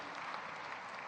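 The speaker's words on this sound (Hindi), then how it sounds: "जोरदार तालियां बजनी चाहिए।" Dense crowd applause for a woman receiving an award at a Women's Day event in Bhopal, a brief, even burst of clapping heard alone at moderate level.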